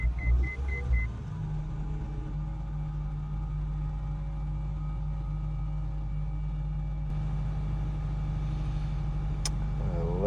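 A 2010 Honda Civic Hybrid being started in a repair setting with a crankshaft position sensor fault, a brief starter whir at the outset giving way to a steady low engine idle hum that holds evenly throughout, with no speech.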